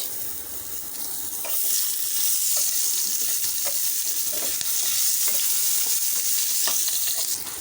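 Chopped onions sizzle steadily in extra oil added to the pan used for frying rohu fish. A spatula scrapes and clicks now and then, close and fairly loud, with no voices.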